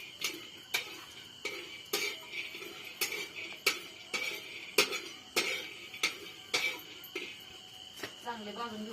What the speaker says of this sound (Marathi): चांगले भाजून घेऊ शेंगदाणे.